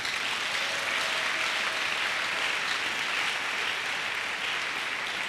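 A church congregation applauds and acclaims God, producing a steady, dense wash of clapping that stays even and continuous throughout, slightly distant, with no clear speech over it.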